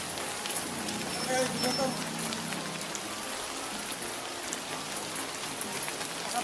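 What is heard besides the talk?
heavy rain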